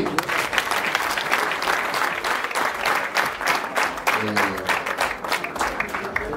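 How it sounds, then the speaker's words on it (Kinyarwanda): A wedding crowd claps in a dense, sustained round of applause that stays loud throughout, with faint voices mixed in beneath the clapping. "Abanyeshyaka batagize ishyari bakoma amashyi."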